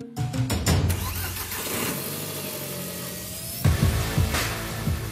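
Audi TT engine cranking for a moment, catching, then running with a steady idle before a few quick revs near the end, loud and close.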